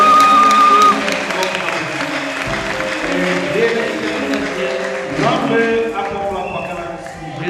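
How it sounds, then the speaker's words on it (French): Applause from a church congregation, loud and steady at the start and continuing as a dense wash of clapping mixed with crowd noise and voices throughout. "Acclamons encore une fois"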